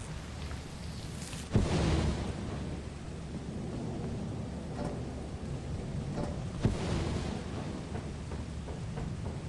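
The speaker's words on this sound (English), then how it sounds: "I swear the lightning in this game really likes hitting the bells more than anything else" Lightning strikes and rolling thunder in Lethal Company, with a sharp close crack followed by rumbling over steady rain, then a second, weaker strike later.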